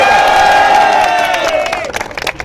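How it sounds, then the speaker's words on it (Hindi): A crowd of students protesting outside Pune University claps and cheers for their leaders, dense broadband applause with tonal shouting that tapers off after about two seconds. "सबसे पहले आपके लिए एक ताली बजा दो आप"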